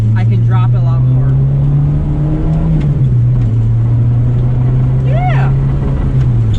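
A 1984 GTI with about 90 horsepower drives along, its engine droning loudly and steadily with a brief dip in pitch like a gear change, while someone talks over it.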